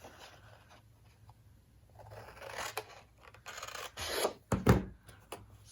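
Paper is trimmed along a score line while crafting a Christmas gift bag, a soft scraping and rubbing that builds into a few sharper slicing strokes near the end, close and quiet.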